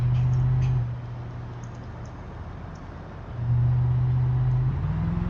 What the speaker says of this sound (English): This LT1 has some pretty good get up and go for the fact that it has a trailer connected to it